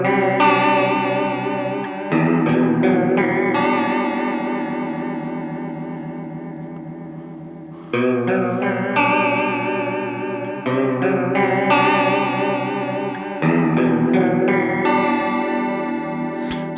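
Electric guitar run through a Flashback Delay pedal in chorus mode with an 8.5 ms modulation delay and slow speed, giving sustained, shimmering chords that repeat in several strummed sections and fade slightly between restrikes, played alone and fairly loud.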